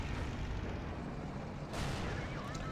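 Tank gun fire from a British Tier 7 tank destroyer in World of Tanks, a single heavy boom near the end of the clip over steady game noise and low rumble.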